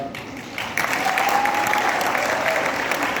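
A crowd at a fireside chat with Shahrukh Khan breaks into applause for Zoya, swelling after a brief moment and holding as full, steady clapping.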